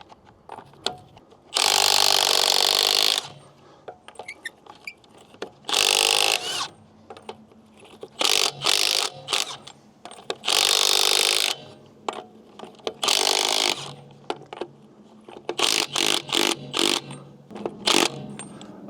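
Milwaukee M12 stubby impact wrench breaking loose the lug nuts on a Sprinter van wheel in the field: a series of loud, close bursts of rattling hammering, some long and some short, separated by brief pauses.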